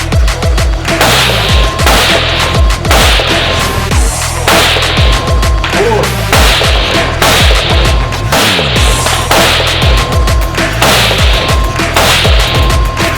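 An AK-47 rifle fires at targets on an outdoor range, a run of loud, sharp cracks spaced at a steady, moderate pace with echoing tails. The shots are close and unbroken by speech.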